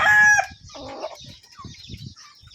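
Gamefowl chickens, including a gray sweater brood stag, give a loud close crow at the start followed by a run of soft, low, rhythmic clucks in a backyard.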